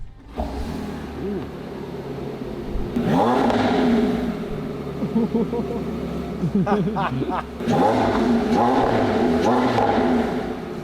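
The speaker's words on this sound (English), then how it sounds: "let's see if this famous high-revving V8 is worthy of the hypercar name" A high-revving V8 hypercar engine roars in bursts, rising and falling sharply as it's blipped, with people talking over and between the revs.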